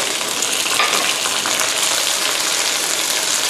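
Garlic stir-fried with pork in a pan for Thai fried noodles with bacon and egg crackles in a loud, dense, continuous sizzle with a rain-like patter throughout and no talk.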